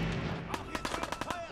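Pistol fire from Fallout 4 crackles in a rapid burst of short sharp shots, fairly quiet and layered over the game's background sound and music.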